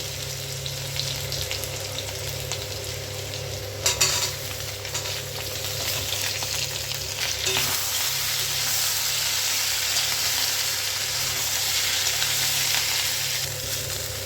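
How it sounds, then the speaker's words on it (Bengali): Ivy gourd sizzles loudly in a pan of hot oil for a Bengali mixed-vegetable curry, with a continuous fry broken by a few sharp clanks and scrapes of a spatula as the pieces are stirred. "তো কুঁদরিটা আমি নেড়ে ছেড়ে নিয়েছি।"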